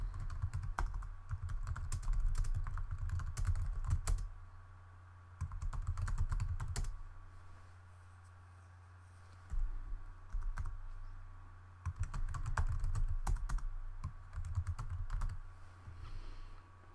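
Typing an email message on a computer keyboard, bursts of quick close key clicks separated by short pauses, with a steady low hum underneath.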